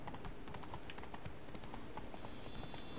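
Roach the horse gallops in The Witcher 3, hooves drumming in a quick, steady clip-clop rhythm that stays close and loud throughout.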